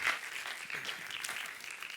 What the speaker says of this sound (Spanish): bienvenida, un aplauso